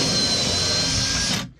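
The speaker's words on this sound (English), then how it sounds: "And I'm gonna use that to drill through into the deck, straight down." A drill bores straight down through the deck of a wooden boat, making a steady, close whirring grind that runs continuously and then stops abruptly.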